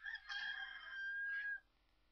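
A chicken in the video game Resident Evil 4 gives a drawn-out, crowing-like squawk, loud and close, lasting over a second before cutting off, with no talk over it.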